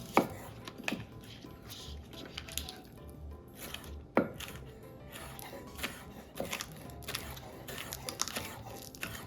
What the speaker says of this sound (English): We're gonna go ahead and chop up our green onion.